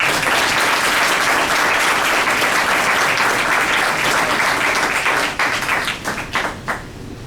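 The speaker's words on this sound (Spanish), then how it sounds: "Ahora sí, un fuerte aplauso." Loud, dense applause from a conference audience at a human-rights-in-health event, a thick, even wash of many hands clapping that thins into scattered claps near the end, with no talking.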